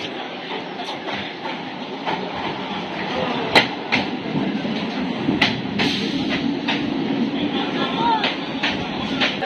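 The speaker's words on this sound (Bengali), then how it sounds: "ট্রেন ঢুকছে আমি ট্রেনে উঠে কথা বলছি" A local train pulls into a station on the Kolkata side, a steady rolling rumble with rail clatter and sharp clanks, heard up close amid platform noise and people talking.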